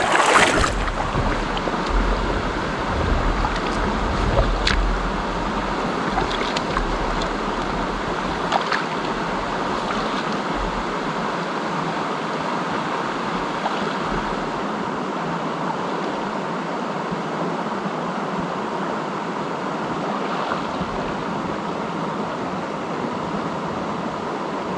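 Steady broadband rush of a flowing stream in remote north central Pennsylvania woods during fly fishing, continuous and fairly loud with some wind buffeting the microphone, no talking.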